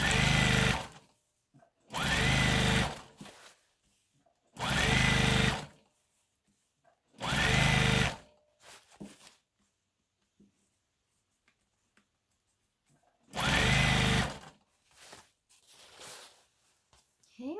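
Sewing machine hemming a prom dress with horsehair braid, five loud bursts of rapid stitching each a second or two long, separated by quiet pauses with faint handling sounds in between.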